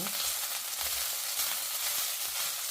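Rice frying in a nonstick pan gives a steady, dense sizzle that stays close and even from start to finish, with faint stirring scrapes underneath and no voices.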